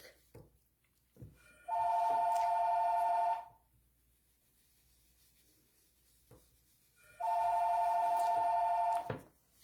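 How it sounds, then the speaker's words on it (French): A mobile phone rings twice, each time as a steady two-tone electronic trill lasting under two seconds, heard in a quiet room during a card-making session with faint rubbing and handling sounds between the rings. "Mon téléphone sonne, j'espère que vous ne l'entendez pas."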